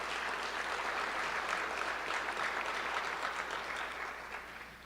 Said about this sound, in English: So let's go ahead and give them a round of applause